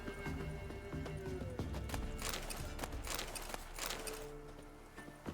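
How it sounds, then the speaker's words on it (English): Horse in The Witcher 3: Wild Hunt, with a snort or whinny and hoof clops over a steady game soundscape of ambient music and effects, fairly continuous and mid-level throughout. "Damn, a horse just eating."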